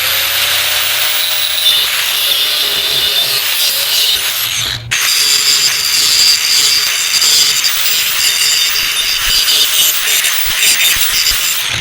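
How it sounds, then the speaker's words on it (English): An angle grinder's cutoff wheel slices off the corner of a metal piece for a DIY metal bender, giving a loud, continuous high-pitched grinding whine that breaks off briefly midway before resuming. "Just take our cutoff wheel and cut off the corner there."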